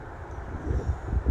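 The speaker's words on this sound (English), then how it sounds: "I don't know if you can hear the wind howling." Gusty storm wind of around 50 mph buffets the microphone on the Colorado Trail in low, rumbling surges that rise and fall, growing stronger toward the end.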